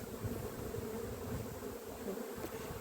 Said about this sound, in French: je rajoute un peu des jeunes abeilles